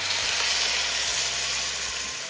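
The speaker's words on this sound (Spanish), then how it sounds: "a este punto le voy a agregar lo que es el jugo de naranja" Orange juice hitting a hot pan of browned pork for a Zacatecas-style pork stew, a loud, steady sizzle and hiss that holds evenly from start to finish with no talk.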